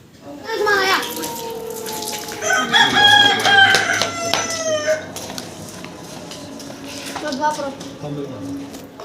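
A rooster crows loudly nearby while other hens cluck, over a background of running water and occasional voices.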